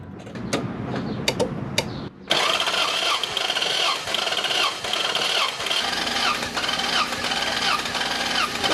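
A Toyota Land Cruiser 1FZ-FE engine cranks over on the starter during a compression test, a steady rhythmic whirring churn that starts abruptly after a few clicks and runs loud and close for several seconds.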